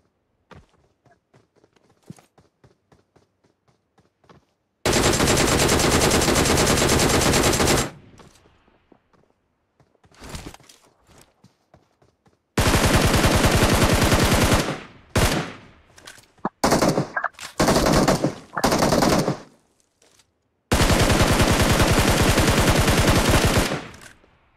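Loud bursts of automatic gunfire from a close-range fight in the BGMI battle royale game, three long sustained volleys separated by shorter broken bursts and quiet gaps with faint footsteps.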